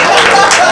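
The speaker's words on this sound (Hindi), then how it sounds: "आदरणीय के सम्मान एक बार ताली बजा दीजिए" An audience at a live Hindi comedy poetry gathering applauds, a steady wash of close, loud clapping that fills the moment without pause.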